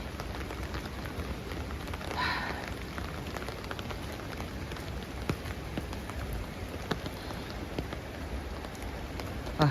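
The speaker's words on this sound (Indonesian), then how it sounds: "Mudah-mudahan hujannya juga agak sedikit berhenti." Heavy rain falls at an old Dutch-era bridge, a dense, even hiss of drops with scattered sharper splashes and a brief louder swell, no voices heard.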